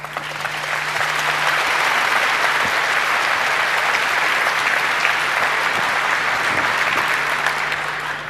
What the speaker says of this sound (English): please give a warm round of applause for the Ultimate Apollo Guidance Talk